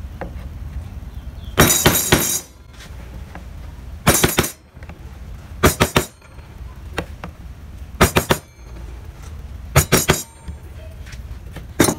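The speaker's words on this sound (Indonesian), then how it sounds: "kalian bisa gunakan pahat kol kayak gini untuk membentuk" Wood being carved with a gouge chisel (pahat kol) while shaping a barong motif: sharp, bright mallet-struck taps come in short bursts every couple of seconds, close and fairly loud, with quiet scraping between them.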